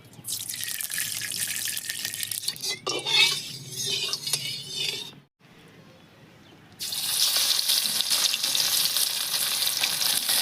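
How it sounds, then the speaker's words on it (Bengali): Mustard oil sizzles in a hot wok while fish is prepared for a curry. A bright hiss comes in bursts, drops out briefly, then returns as a steady loud sizzle. "কড়াই গরম হয়ে গেছে কড়াইতে দিয়ে দিচ্ছি শসুর তেল"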